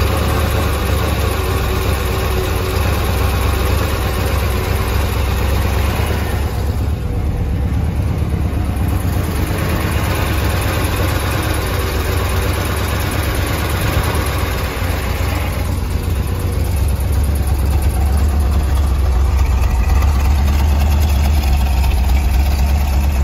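A restored 1966 Chevrolet Corvette convertible with a 427 V8 idles steadily, a loud, close, even rumble that stays constant with no speech.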